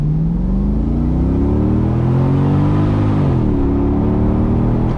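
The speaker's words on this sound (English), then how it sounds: "we can come to a quick stop here and do a rough 0 to 60" Chevrolet Corvette C6 convertible with automatic gearbox launching from a stop, the engine climbing loud and close in rising harmonic sweeps, a quick drop at the upshift, then pulling up again.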